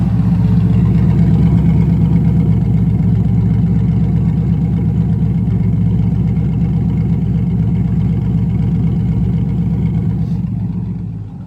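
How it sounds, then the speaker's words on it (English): A 1998 TVR Chimaera sports car runs with its bonnet up, the exhaust giving a deep, steady burble at a loud, even idle throughout before tapering slightly at the very end. "I'll be quiet for a while so you can hear the exhaust"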